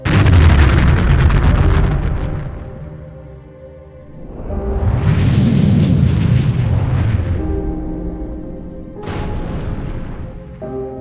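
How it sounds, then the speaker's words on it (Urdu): Deep rumbling blasts from the first nuclear test explosion, the Trinity test in New Mexico in 1945, come as long rolling booms that swell and fade, followed by a sharper crack and lingering rumble. "رابرٹ اوپن ہیمر کی سربراہی میں 16 جولائی 1945 کو نیو میکسیکو کے راجستھان میں دنیا کا پہلا نیوکلیئر دھماکہ کیا گیا"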